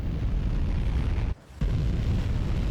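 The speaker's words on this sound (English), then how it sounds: "tiny explosion." A tiny spacecraft explodes in a video game, a loud rumbling burst that cuts to near silence for a moment before the dense roar resumes.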